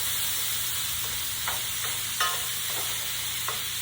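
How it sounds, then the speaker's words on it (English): Onions fry in a hot pan with a steady sizzle while a utensil stirs them, scraping and clinking in a few short bursts; the sizzle is constant and close, and nobody speaks. "we're going to throw the onions in. Give it a little stir."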